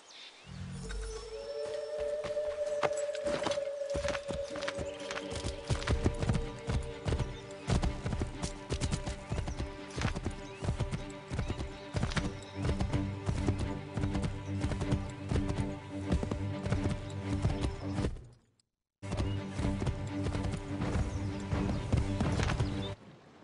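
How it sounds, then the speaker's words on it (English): Horse hooves in the video game Assassin's Creed III, a steady run of close clip-clop beats with a brief neigh near the start, continuing loud and unbroken apart from a short silent break near the end. "Take my horse! Bring him here!"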